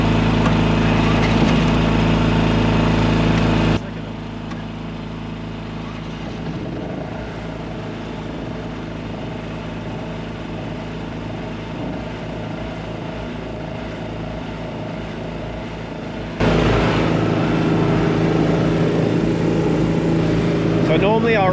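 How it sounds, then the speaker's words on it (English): A portable generator with an eco mode runs loudly and close at first, drops to a quieter idle for a long stretch, then revs back up to full power near the end; a person talks over it. "Been here 40 minutes and this generator's not going"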